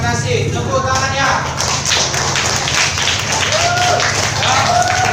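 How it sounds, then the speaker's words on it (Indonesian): Classroom of students clapping together after a group presentation, a dense, steady patter of hands filling the room throughout, with voices chattering underneath. "Oke, terima kasih. Tepuk tangannya."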